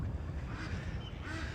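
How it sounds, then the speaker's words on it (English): Ducks quacking outdoors beside a nature trail, several calls overlapping in a loose, irregular chatter at moderate distance, with no voices. "We got lots of ducks"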